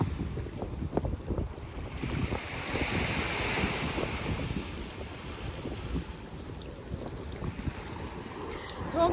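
Ocean waves surge and wash onto the beach at Avon-by-the-Sea, with a steady rushing roar of surf and gusts of wind buffeting the microphone, loud and continuous with no talk.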